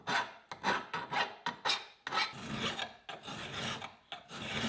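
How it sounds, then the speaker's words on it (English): A hand file rasps back and forth across metal being deburred for a Viking war hammer, with distinct strokes at first, then longer continuous scraping, close and fairly loud with no talking. "I now need to deburr this and take away the little join mat from the back"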